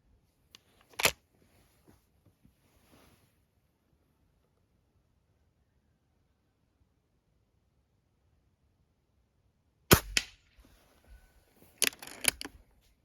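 A few sharp, isolated cracks from an IZh-38 air rifle ring out against near silence, one early and a couple more later, each followed by faint mechanical clicks.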